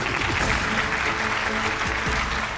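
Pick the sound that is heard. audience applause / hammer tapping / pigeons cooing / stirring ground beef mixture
audience applause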